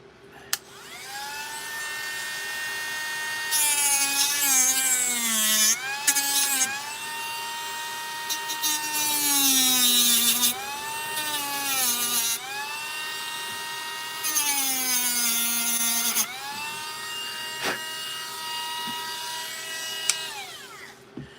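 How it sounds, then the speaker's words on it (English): Edge of a wooden Christmas jewelry box being sanded down with a high-pitched whining power tool, running in several long bursts that rise and fall in pitch, loud and close with brief pauses between passes. "And we sand it off. Sand this edge down some more."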